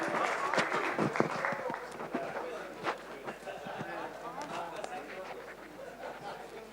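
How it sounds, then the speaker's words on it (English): Guests at a bravery awards ceremony in a hotel ballroom in Chennai give a fairly faint round of applause, scattered claps and crowd chatter spread through the room, with voices mixed in. "A big round of applause"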